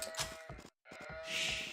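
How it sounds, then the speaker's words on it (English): Sheep in Age of Empires 2 bleat in two short, clear bursts separated by a brief gap, close and distinct with a slightly tinny game quality. "As he is gathering up these sheep from the back of his base,"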